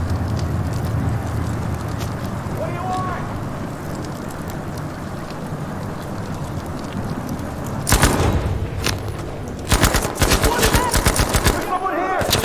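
Gunfire from fighter planes strafing in the Battlefield V campaign: a low rumbling battle bed, then loud rapid machine-gun bursts crackling in repeated volleys toward the end.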